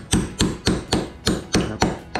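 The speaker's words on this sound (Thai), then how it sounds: "เราก็เอาค้อนของเรานี่นะครับมาตีเลยครับ" A hammer strikes a nail puller to drive its jaws under a nail head, giving eight sharp metallic blows in a steady, even rhythm, close and loud with no talk.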